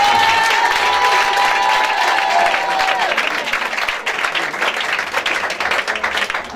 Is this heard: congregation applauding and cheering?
yes